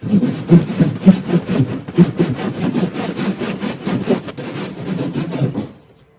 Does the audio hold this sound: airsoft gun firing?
no